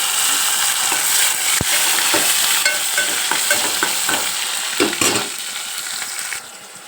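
Onions and tomatoes fry with cumin for a bitter gourd curry, giving a steady loud sizzle throughout, with a few scraping stirs of a spoon in the pan before the sizzle eases slightly near the end.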